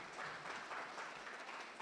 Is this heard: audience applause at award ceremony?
yes